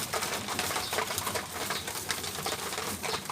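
Racing pigeons coo softly while being fed, a low murmuring flock sound heard close by and continuously, with faint scattered bird noises mixed in.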